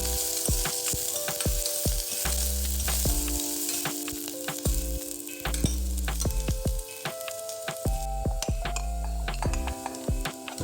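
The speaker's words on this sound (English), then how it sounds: "Now add 7 to 8 cloves of chopped garlic and 1 small onion. Saute for 2 to 3 minutes till lightly golden." Chopped garlic and a small onion sautéing in oil, a loud continuous sizzle up close, broken by frequent sharp clinks of a metal spoon scraping and tapping the pan, with no talking.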